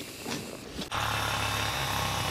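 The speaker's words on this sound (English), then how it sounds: "It sounds like a chainsaw." A loud engine with a raspy, chainsaw-like buzz starts up abruptly after a short quieter stretch and then runs steadily and close by on a frozen lake at an ice-fishing spot in South Dakota.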